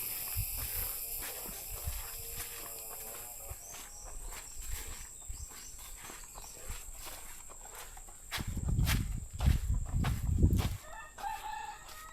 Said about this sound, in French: Il y a des poules partout.